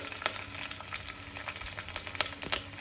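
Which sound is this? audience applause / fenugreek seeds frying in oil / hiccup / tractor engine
fenugreek seeds frying in oil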